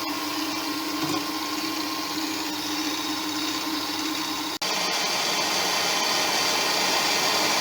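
Stand mixer whisking an egg and sugar mixture for a mocha cake, a steady close motor whir running throughout, with a brief change in tone near the middle as something is added while it mixes.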